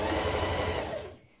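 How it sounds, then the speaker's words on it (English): Sewing machine understitching a skirt pocket seam a couple of millimetres from the seam on a NewLook 6651 shirt dress: a steady, close mechanical whir that runs continuously, then slows and stops near the end. "we're going to stitch just a couple of millimetres away from this seam that we've just created"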